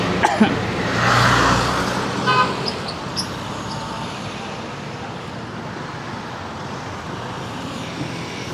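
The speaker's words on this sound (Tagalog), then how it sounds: "Padaanin muna natin mga may yung sasakyan." A car passes close by on a road amid traffic noise, loud at first with a short horn toot, then receding into a steady roadside hum.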